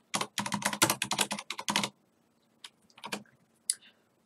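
Keys on a computer keyboard clack in a quick, close run of typing, then stop, followed by a few sparse, isolated keystrokes.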